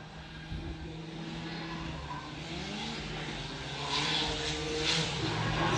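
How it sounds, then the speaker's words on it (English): BMW E36 drift car circling a track at a drift practice day, heard from a distance as a rising engine wail mixed with tyre noise, growing louder toward the end. "Andonis with the BMW E36 coming around."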